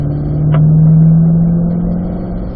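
A Corvette engine pulling hard on a race track, a loud sustained mid-pitched roar that swells as the throttle opens, heard from close, with no talking.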